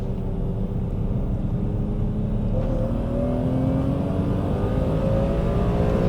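Six-cylinder engine of a 1990s BMW E34 M5 with individual throttle bodies accelerating hard from inside the car, a loud continuous rising drone that climbs steadily in pitch through the gear.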